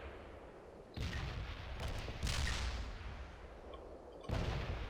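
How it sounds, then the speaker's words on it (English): Artillery fire in the real-time strategy game World in Conflict: several heavy booming impacts roll in, with rumbling blasts around one, two and four seconds, no talk. "You can apparently call in artillery."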